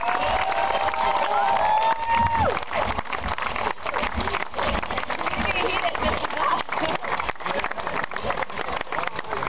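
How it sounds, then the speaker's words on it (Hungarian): A crowd at the 2007 Zenta Summer Youth Games award ceremony claps and cheers loudly, with shouts and a whistle rising above the steady applause. "Nagyon nagy tapsot mindenkinek, aki itt játszottak, mindannyiótoknak!"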